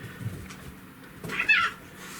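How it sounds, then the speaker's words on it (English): A kitten fusses in the background, giving a couple of short, faint meows and a thin cry before quieting again. "Having a little disagreement with the kitten back there. I hear him fussing."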